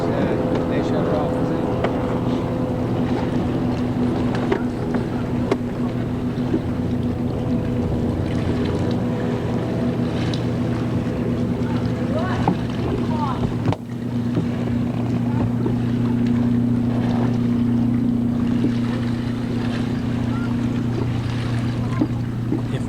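A motorboat runs steadily on Crystal Lake in New Hampshire, a constant low engine drone with wind noise across the microphone, close and continuous throughout without a break.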